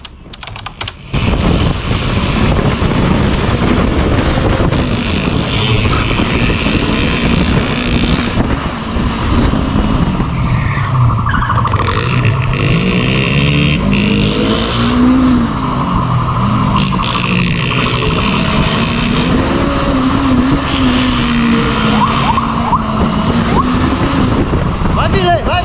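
Motorcycle carrying two thieves fleeing police, its exhaust rasping and rising and falling in pitch as the rider accelerates, loud and close, with voices and wind noise over it.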